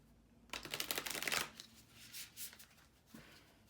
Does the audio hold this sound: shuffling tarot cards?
yes